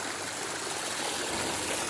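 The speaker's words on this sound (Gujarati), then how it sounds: "પાણી પણ જો કેટલું ઠંડુ ઠંડુ આવે છે એ છો।" Cold water flows steadily at a pilgrimage site at Omkareshwar, a continuous close rushing and splashing with no break and no voices.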